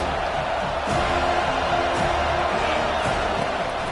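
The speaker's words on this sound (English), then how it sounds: "this crowd is tearing the lid off this place." A football stadium crowd at a Notre Dame versus FSU game roars on third down, a dense, sustained wall of cheering and whooping that fills the whole stretch at steady loudness.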